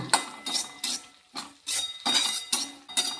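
A spoon scrapes and clinks against a pan while masala bhindi (okra, potato, Kashmiri chili and coriander powder) is stirred, several rhythmic close strokes with no talking.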